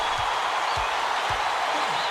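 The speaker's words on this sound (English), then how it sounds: "This crowd is going insane. I love the energy of this building. Listen to them." A cheering basketball crowd in College Basketball 2K8 keeps up a steady, dense roar throughout, with a few soft low thumps underneath.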